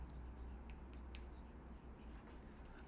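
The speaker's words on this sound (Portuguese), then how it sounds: "Vou escrever aqui, ó." Chalk or marker scratching across a board during a maths lesson on arithmetic progressions, faint soft strokes under a steady hum of room noise.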